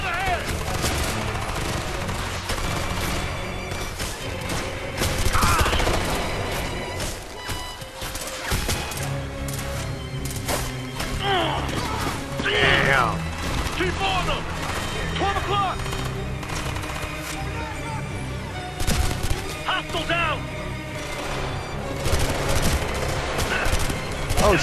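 Heavy firefight gunfire in Ghost Recon: Future Soldier, with sustained machine-gun bursts and single shots crackling loudly and nearly nonstop, while voices call out over the shooting.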